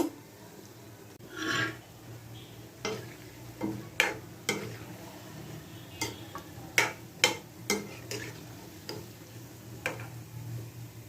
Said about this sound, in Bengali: বড়গুলো লাল করে ভেজে তুলব